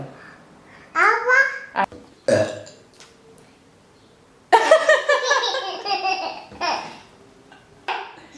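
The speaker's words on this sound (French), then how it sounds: "T'aimes bien quand je rote?" An adult woman lets out a loud, drawn-out burp, followed by a child's giggles and babbling plus a few more short vocal bursts, all heard close up.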